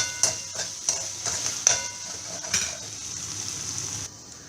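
Flour bhaji sizzles in a covered pan on a gas stove while a spoon stirs it, making a few distinct scraping strokes over a steady frying hiss. No one speaks.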